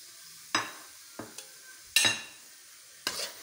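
Semolina is dry-roasted in a pan and stirred with a spoon, heard as four or five sharp scraping strokes with quiet gaps between them.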